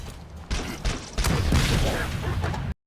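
The rocket launcher in the Halo CE remake fires as a few heavy, punchy bangs spaced roughly half a second apart, then settles into a loud, sustained, rumbling blast with a booming low end.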